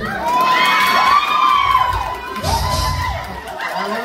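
A lively crowd at a 50th birthday celebration cheers and shouts with high children's voices mixed in, continuous and fairly loud throughout, with no clear clapping standing out.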